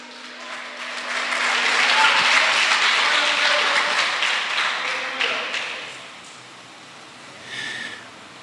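A church congregation applauds to glorify the Lord during a sermon, clapping that swells over a couple of seconds, holds, then fades, with a brief smaller burst near the end and some voices mixed in.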